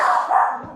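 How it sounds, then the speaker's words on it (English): A single sharp, loud bark from a nearby dog, brief and clear with a quick decay. "Excuse my dog."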